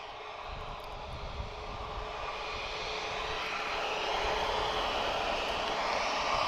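An Airbus A330neo with Rolls-Royce Trent 7000 engines departing Lisbon Airport for São Paulo, a steady roaring jet engine that grows slightly louder over the clip, with no voices.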